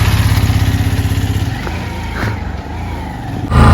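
A motorbike engine drones and revs steadily up close, its rhythmic throb fading to a rougher rumble before surging again at the end.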